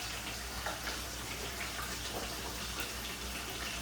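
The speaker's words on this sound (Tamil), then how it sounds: "புளி கரைசல் ஊற்றிக்கலாம்." Tamarind extract pours steadily into a cooking pot as fish curry is prepared, a continuous broadband watery gush like a running tap, close and fairly even throughout with no talk.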